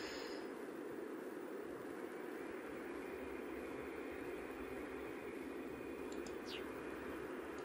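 Helicopter in the horror game Penumbra Requiem, a steady broadband rotor-and-engine rumble that holds at an even level throughout, with no talk.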